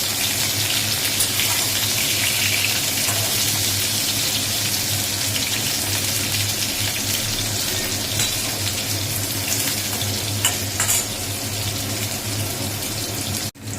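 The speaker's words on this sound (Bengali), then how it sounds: "বেগুনটাও হালকা ভেজে নেবো।" Eggplant frying in a pan for a bitter vegetable curry, a steady loud sizzle and crackle that runs unbroken nearly throughout, with no talk.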